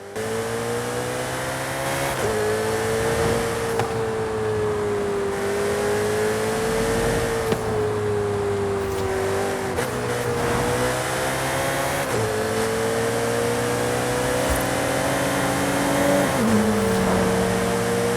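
A Ferrari SF90 engine in the video game Forza Horizon 5 revving continuously, pitch rising and falling through gear changes, loud and close, with no voices.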